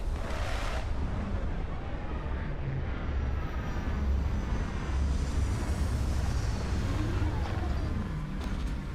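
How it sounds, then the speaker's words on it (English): A spaceship's retro thrusters fire during a landing in a video game, a loud steady roaring rumble with low booming pulses that holds throughout. "Landing struts primed. Retros firing."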